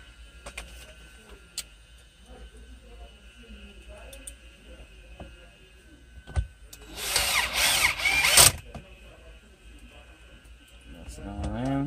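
A power drill backs screws out of a steering column cover on a Hyundai Elantra, buzzing loudly in a short close burst of about two seconds amid quiet clicks and handling noises, with speech nearby.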